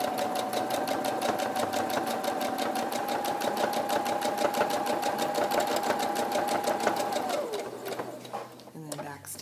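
A sewing machine stitches across quilted fabric for a zipper bag, a fast, steady mechanical hum and rapid needle clatter running continuously before slowing and stopping near the end.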